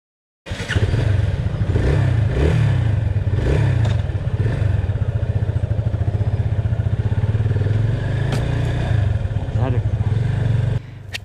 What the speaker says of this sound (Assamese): টু ফিফটি চিচিৰ বাইকটো পাৱাৰটো অনুভৱ কৰিব পাৰি